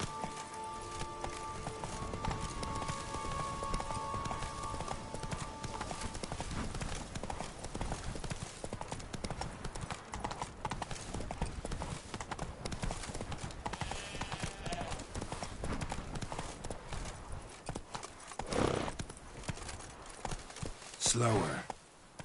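Roach, a horse in The Witcher 3: Blood and Wine, gallops with a rapid, continuous clip-clop of hooves, close and steady. A voice is briefly present, and a sharper clatter comes near the end.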